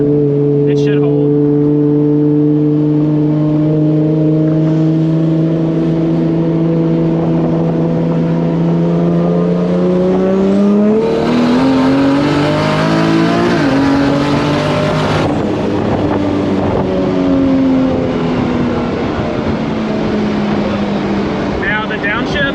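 A 2JZ-swapped BMW E30 with a dual-clutch gearbox drones loudly from inside the car, climbing in pitch through a gear, shifting, and pulling again as it accelerates, with a voice speaking over it.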